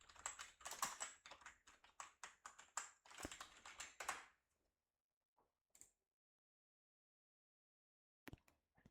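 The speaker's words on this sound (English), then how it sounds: "I actually have to type this out." Quick bursts of typing on a computer keyboard fill the first four seconds with dense, close clicking, then fall to near silence apart from a few isolated taps and a final short burst.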